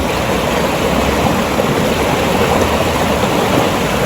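River water rushes in a steady, loud, unbroken wash close by, with no voices or other sounds over it.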